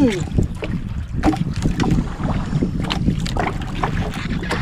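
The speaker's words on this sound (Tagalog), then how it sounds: "medyo lumakas na naman ang hangin" Gusty wind buffets the microphone in rough, uneven bursts, with splashing water around a small fishing boat.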